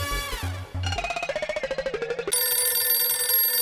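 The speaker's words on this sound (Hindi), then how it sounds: "ये देखो, इधर फोन बज रहा है" A telephone rings with a rapid, trilling bell burst, then shifts into a steady electronic tone; fairly loud and close, with no talking.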